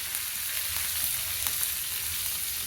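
Finely chopped green chili frying in hot oil with cumin seeds in a tempering for pithla on a tava, a steady close sizzle with soft crackles and occasional brief pops throughout.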